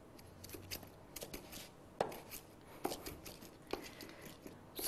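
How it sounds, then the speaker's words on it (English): A knife chops fresh coriander leaves on a board in a home kitchen, with soft, sparse cuts and a few sharper crisp strikes spaced a second or so apart, close and quiet. "Just cut a little bit of these nice greeny leaves, put them together"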